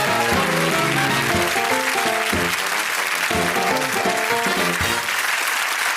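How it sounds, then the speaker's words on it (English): Studio audience at the Bullseye darts quiz show applauds its contestants, a loud, steady wash of clapping lasting throughout, with music-like tonal bands running underneath it. "Give them a round of applause."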